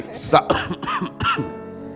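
A few quick, harsh coughs close to the microphone, bunched into a short burst that fades out.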